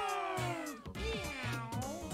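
Cat meows from the Super Mario 3D World video game: a close, clear series of bright, cartoonish meows with rising and falling pitch.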